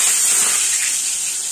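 Curry leaves and whole spices crackle and hiss in hot oil, a loud, steady bright sizzle heard close up and alone for a brief moment.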